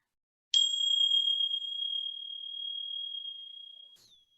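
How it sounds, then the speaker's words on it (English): Hand chime struck once, a bright clear tone ringing out and slowly fading over a few seconds, followed by a faint short chime at the end, alone without talk. "I have these lovely chimes, and I'll just ring them for you guys."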